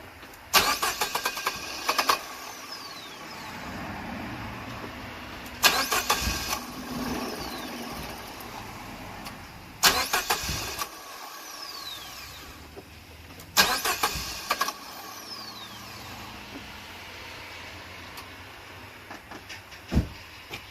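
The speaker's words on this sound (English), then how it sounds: "Just start the car until it turns off and that bleeds all the pressure." A Dodge Neon SRT-4 with its fuel pump relay pulled cranks over and over: several separate bursts of starter whir and brief engine catch, each dying away into a quieter idle-like hum between attempts, close by.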